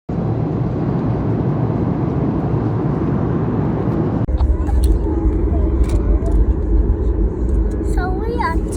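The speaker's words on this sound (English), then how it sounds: "So we are taking off." Inside a passenger plane taking off, a loud low engine roar fills the cabin throughout, with a sharp shift midway as the rumble changes, and voices talk over it in the second half.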